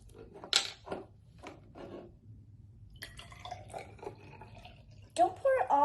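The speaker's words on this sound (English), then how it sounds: "So take the water, Pour it in each one." Water from a home science kit is poured into several small containers, giving a few short separate splashes and trickles with quiet gaps between them, while children talk nearby.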